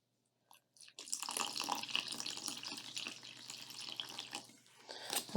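Water pours steadily and fairly faintly into a bowl of homemade slime mixture, a continuous splashing stream lasting several seconds.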